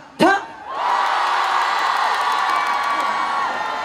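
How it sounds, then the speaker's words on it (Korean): A festival concert crowd at the Cheongsong Apple Festival lets out a big, sustained roar of cheering and whooping after a sharp shout, the mass of voices holding loud and steady to the end. "요거를 할 때 여러분이 크게 함성을 질러주시면 되는 겁니다"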